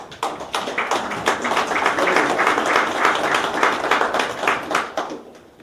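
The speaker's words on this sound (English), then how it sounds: "let's give them a big round of applause" A big round of applause breaks out at a tribal nation's general council meeting, dense clapping from a crowd filling the room for several seconds before thinning out, heard alone without talk.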